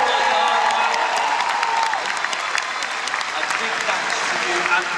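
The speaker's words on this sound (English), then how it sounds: "Let's give them a big cheer now." Theatre audience at a musicals gala clapping and cheering together, a dense, continuous wash of applause with scattered whoops that holds steady for several seconds.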